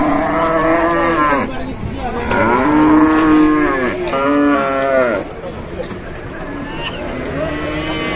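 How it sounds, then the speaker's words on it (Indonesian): A calf moos repeatedly on a farm with cattle pens, the long, loud, close calls rising and falling in pitch and overlapping with other farm noise. "Ada pedet"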